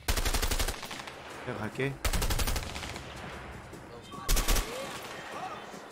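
Bursts of automatic gunfire from the video game A Way Out, three loud rattling volleys separated by short pauses, with a person speaking briefly in between.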